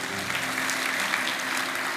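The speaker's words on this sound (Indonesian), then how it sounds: "Kasih tepuk tangan untuk Tuhan Yesus" A church congregation applauds during an Indonesian service, a dense, even patter of many hands that holds steady for about two seconds at moderate volume.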